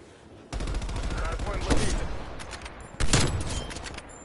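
Rapid bursts of gunfire in a Call of Duty Hardpoint match, with sustained automatic fire across the clip and a louder burst near the end, heard alongside game audio.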